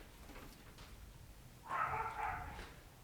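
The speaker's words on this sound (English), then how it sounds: "Tony just has the loudest dog in the world." A dog barks loudly somewhere at a distance in a short burst of repeated barks, rising over a quiet room hum; the tail end trails off into fainter noise.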